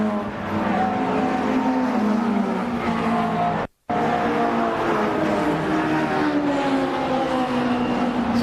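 Touring cars race flat out at Brands Hatch on the final lap, engines droning and revving loudly with shifting pitch, and a brief silent cut midway before the roar resumes.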